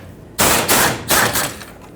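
A 10mm socket on a power tool spins out the fuel tank mounting bolts of a 2008-2010 Ford F-250 in three loud, close, rattling bursts, each lasting a fraction of a second.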